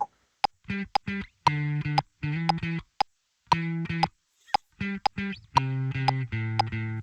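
A distorted electric guitar riff of short chugged stabs and sustained power chords in a choppy rhythm, with brief gaps between phrases.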